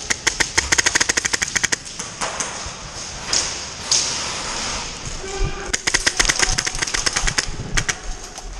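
Airsoft guns fire in bursts during an airsoft game at Battalion Airsoft, with rapid close volleys of sharp cracks at the start and end and sparser shots and thuds between, with no talk.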